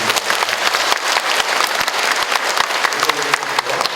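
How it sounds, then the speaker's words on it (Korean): Loud, dense applause from a congregation at a church healing prayer seminar, a steady wash of many hands clapping for the full few seconds with no talk over it. "먼저 우리를 불러주신 하나님께 감사의 큰 박수"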